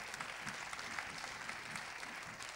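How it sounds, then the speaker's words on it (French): An audience applauds two speakers after a face-to-face discussion on transhumanism and biotechnology, a steady wash of clapping heard from a distance at low level. "on peut applaudir nos deux intervenants."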